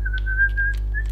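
A person whistles a short, steady tune of sustained notes over a constant low hum, alone without speech.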